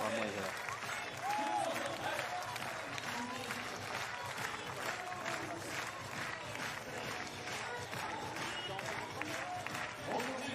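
Stadium crowd at an international athletics meeting applauding steadily and rhythmically, a continuous wash of clapping and cheering with voices talking over it.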